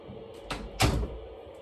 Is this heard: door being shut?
yes